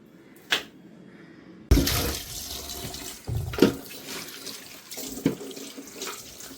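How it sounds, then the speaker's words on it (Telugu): Mushrooms being washed in water, with running tap water splashing and several sharp clattering knocks against a sink. "ముందుగా నీటిలో వేసుకొని శుభ్రంగా కడుక్కోవాలి."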